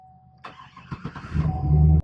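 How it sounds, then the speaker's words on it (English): A Chevy or GMC truck starts with a new key in a replacement ignition lock cylinder: a steady chime tone, then a short cranking burst that catches and settles into a loud, close, rumbling idle. "and then the truck starts right up"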